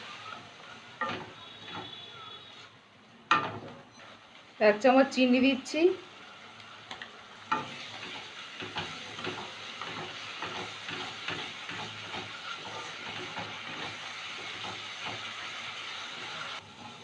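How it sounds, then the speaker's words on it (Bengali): Spice masala stir-fried in oil for a raw banana kofta curry, a sizzling hiss that swells after a short pause and carries on with faint stirring, while a voice speaks briefly near the start. "মশলাটা 3 মিনিট কষিয়ে নিয়েছি, তেল বেরিয়ে গেছে"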